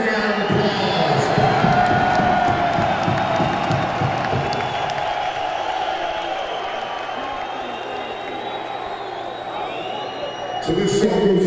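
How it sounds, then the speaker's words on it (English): Crowd at a live concert in Detroit erupts in applause and cheering, a dense sustained roar of clapping and shouts that eases slightly midway then surges again near the end. "Give yourself a round of applause."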